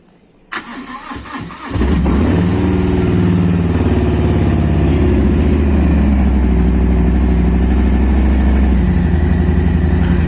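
A Harley-Davidson Fat Boy V-twin motorcycle engine cranks with a brief starter whir, fires up loudly at close range, then settles into a steady, deep, lumpy idle that runs unbroken to the end.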